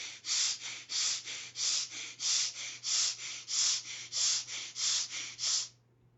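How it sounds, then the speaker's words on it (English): Rapid, rhythmic hissing breaths pushed into the chest during a breathing meditation, about fifteen forceful close-up pulses in steady succession before stopping into near silence, with a low hum underneath. "start breathing long, deep, and hissing into the chest"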